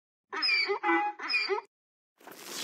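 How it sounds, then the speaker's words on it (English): A donkey brays close by in three quick, loud, rhythmic bursts. A short hissing noise follows after a pause. "D is for"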